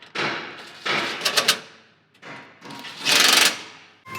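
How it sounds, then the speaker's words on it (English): Stock 8 mm screws are tightened with a socket on an Ironman 4x4 Raid front bumper on a RAM 1500 DT, giving several short ratcheting bursts and clicks separated by brief pauses, close and fairly loud. "I'll grab an 8 millimeter socket to tighten those down"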